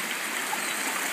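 Steady broadband rush of falling water, continuous and fairly close, with no voices over it.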